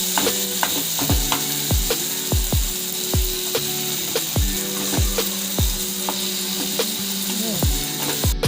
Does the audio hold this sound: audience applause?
no